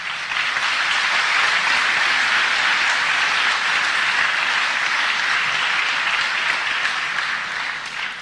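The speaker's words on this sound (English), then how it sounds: "it should be me applauding you" Audience applause, a dense, loud burst of clapping that holds steady for several seconds and then begins to fade.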